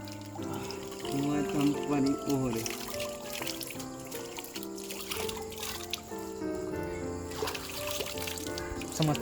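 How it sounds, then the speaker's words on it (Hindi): Water from a nearby waterfall trickles and splashes steadily at moderate volume while people talk over it. "ये देखो यहाँ पे झरना चल रहा है पास में"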